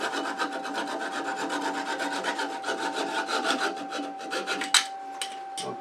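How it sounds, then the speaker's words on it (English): Wood being hand-sanded against a spinning lathe to finish the end of a turned wooden goblet: a steady, close rasping rub with a rhythmic pulse, ending in a few sharp knocks. "I can finish up the end very easily with sanding manual on the lathe"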